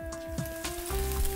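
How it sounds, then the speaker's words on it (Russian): Samarkand plov with rice, carrots and chickpeas boiling in a pot, a soft bubbling sizzle with small pops over a faint steady hum, quiet and without talk. "Отлично все кипит."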